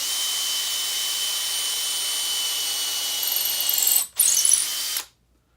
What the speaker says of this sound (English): I took a bit that wouldn't cut at all, and now it seems to cut pretty well and pretty fast.